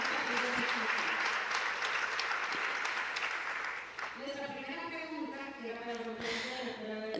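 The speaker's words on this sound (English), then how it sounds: "A round of applause for this panelist." An audience at an innovation forum applauds a panelist with sustained, even clapping from a crowd. Toned voices or music rise under the clapping toward the end.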